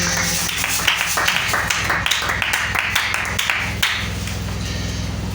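A church congregation claps in acclamation during a service, steady rhythmic clapping at close range over a low musical backing, with no talk.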